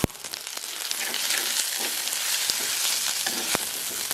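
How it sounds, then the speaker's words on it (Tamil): Ginger sizzles and fries in hot oil in a pan for a fish curry, a steady close crackling hiss with scattered sharp pops, alone without talk. "இப்போ நாங்களும் கொஞ்சம் இஞ்சி போடுவோம்."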